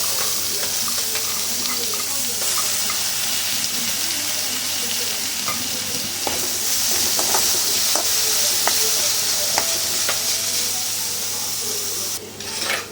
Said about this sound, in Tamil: இந்த டைமில் நான் பாசிப்பருப்பு வந்து ஆட் பண்ணிக்கிறேன்